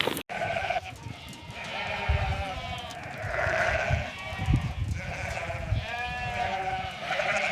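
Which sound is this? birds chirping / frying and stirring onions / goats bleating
goats bleating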